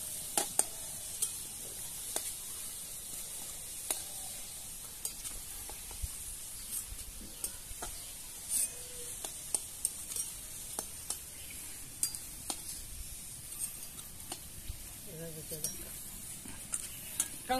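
Potatoes fry in a pan in a village kitchen, a soft steady sizzle with frequent sharp clinks and scrapes of a metal utensil stirring against the pan, fairly quiet and close.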